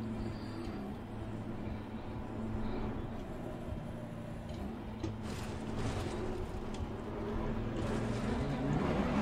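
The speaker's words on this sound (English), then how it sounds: "Someone's just sitting with their engine going." A race car engine idling in Assetto Corsa Competizione, a steady low droning hum with faint rising and falling engine tones over a continuous rumbling background.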